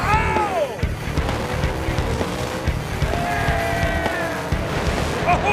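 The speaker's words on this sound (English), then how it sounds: "That is good close drag racing right there." Top Fuel and Funny Car dragsters roar down the strip at the 2007 IHRA North American Nationals, a loud, sustained engine howl with pitch sweeps as the cars pass, under excited commentary.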